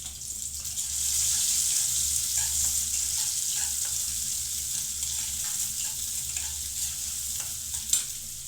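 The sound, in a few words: onion and green chili frying in a wok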